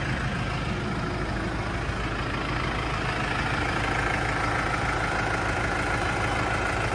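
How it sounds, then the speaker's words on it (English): A 2018 New Holland Powerstar 75 tractor engine idles steadily, a close, constant low diesel rumble with no change in pitch and no talking. "Just a good, clean tractor."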